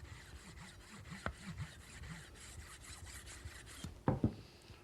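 A knife blade laid completely flat and rubbed to remove the burr from its edge makes soft, steady scraping strokes. A couple of sharper clicks and knocks come near the end.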